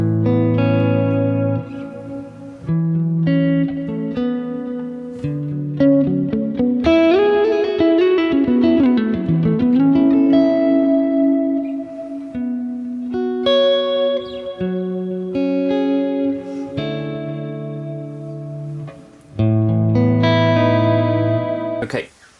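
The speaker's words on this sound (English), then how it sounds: "I'm going to put on the modulated reverb because that's a really nice one" Electric guitar played through a Quad Cortex modeler with modulated reverb, chords and sustained notes shimmering with lush wobbling tails, a bending descending run in the middle, loud and continuous without talk.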